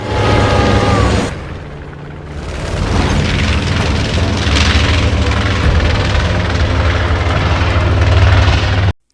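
A plane comes under gunfire in a film scene: a loud, steady engine roar with a sharp cut near the start, then a rising rumble with boom-like bursts before it ends abruptly.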